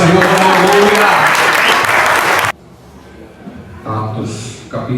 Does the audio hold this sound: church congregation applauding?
yes